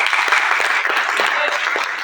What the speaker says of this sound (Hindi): एक बार तालियां हो जाए इसके लिए।